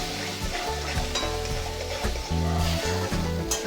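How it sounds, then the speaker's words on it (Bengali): Water pours into spice paste frying for a rohu fish curry, a steady loud sizzle and bubbling with stirring scrapes throughout, close up. "এবার জল ঢেলে দিলাম।"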